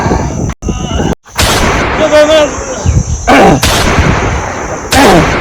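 Gunshots in a dramatic film fight scene, several sharp loud bursts mixed with shouting voices and chaotic action sounds, close and intense.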